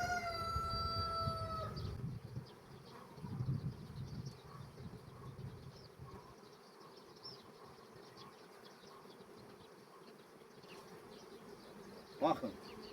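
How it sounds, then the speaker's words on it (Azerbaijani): Honeybees buzzing around wooden hive frames while a beekeeper lifts frames into an upper box, a steady low drone close by with faint rustling and a brief knock near the end. "hər bir çərçivə arası arıların yuvasıdır"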